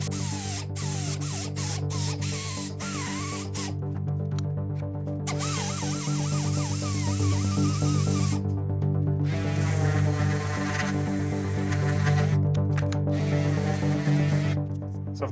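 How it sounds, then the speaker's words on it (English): Die grinder bevelling and radiusing the outside edge of a clamped aircraft part on a workbench: a continuous high whine with grinding and rasping of the burr against metal, steady and close, with brief breaks and changes in pitch. "take my die grinder, and bevel that, or radius that outside edge."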